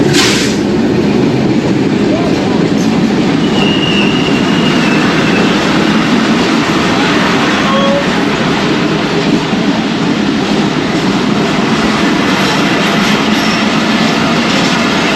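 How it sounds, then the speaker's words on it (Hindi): Steady, loud rumble and roar of the 101 Subak Raftar Express, led by locomotive GU40 4568, arriving on Pakistan Railways' Rawalpindi–Lahore line, a continuous close wash of rail noise without clear breaks. "101 अब सुबक रफ्तार एक्सप्रेस आ चुकी है"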